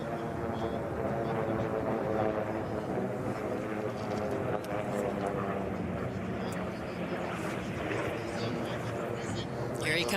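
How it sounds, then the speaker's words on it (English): Unlimited-class propeller racing airplanes drone loudly as they race past at the Reno Air Races, a dense engine roar that holds throughout, with voices talking underneath. "these are fast airplanes"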